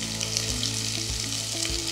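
Sliced onion sizzles steadily in hot coconut oil inside a cooker, a constant close hiss with a few soft low stirring bumps at regular intervals and no voices.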